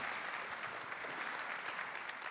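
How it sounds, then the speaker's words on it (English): An audience at an Azusa Pacific University family event gives a round of applause. The clapping is quiet but steady and continuous, with no talk over it. "Let's give them another round of applause."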